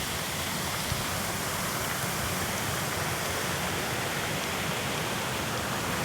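Severn Break Its Neck Falls on the young River Severn in Hafren Forest, Wales, roars loudly as a dense, constant rushing torrent heard up close with no pauses.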